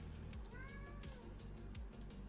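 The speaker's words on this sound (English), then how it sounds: "That's a cat" A single drawn-out cat meow with a rising, wavering tone sounds over a steady low hum from a video game, moderately clear and close.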